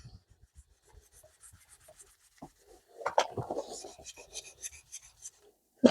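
Quiet, uneven rasping strokes as a cloth scrubs Harpic toilet cleaner against a motorcycle exhaust, building into a busier rubbing burst midway before trailing off.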